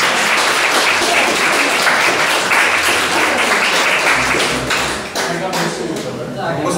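Sustained applause from an audience at a church meeting with missionaries, dense clapping filling the room at a steady level, easing slightly near the end.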